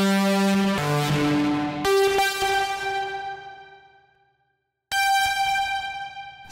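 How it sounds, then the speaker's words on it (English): A harsh, buzzy distorted synth lead in Ableton plays sustained notes that change pitch, cut off into silence, then return with another bright droning tone. "Distortion. Here we go. See if it works."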